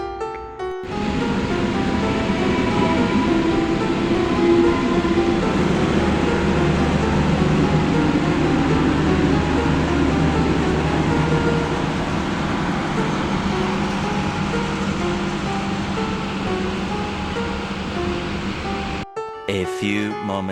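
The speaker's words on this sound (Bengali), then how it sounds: "new Jalpaiguri junction railway station থেকে টয় ট্রেনের মাধ্যমে দার্জিলিং রেলওয়ে স্টেশন" Darjeeling Himalayan Railway toy train from New Jalpaiguri Junction toward Darjeeling station rumbles on steadily, a loud continuous low drone with rattling that holds for most of the stretch and cuts off abruptly near the end.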